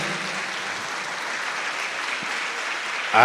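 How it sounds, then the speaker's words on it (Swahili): Continuous audience clapping for a professor at a leadership summit, a steady moderate roar of many hands that swells slightly at the very end. "Tuendelea kumpigia makofi tafadhali."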